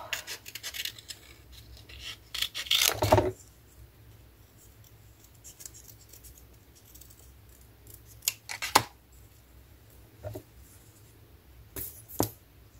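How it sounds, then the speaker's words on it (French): Scissors snipping around a small paper sock shape on a green background for a craft, with a few loud close cuts early on and sparser, fainter snips and paper rustles later amid long quiet gaps. "Et on va couper autour."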